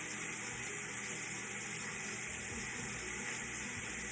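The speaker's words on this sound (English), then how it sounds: "Wash my face and dry it." Tap water runs steadily into a bathroom sink while someone washes their face, a soft, continuous rushing stream that stays even throughout without any voices.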